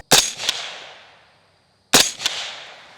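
An AR rifle in regular mode fires two suppressed shots into an earth berm, nearly two seconds apart. Each shot is a sharp, close crack with a quick second snap and a hissing tail that fades out.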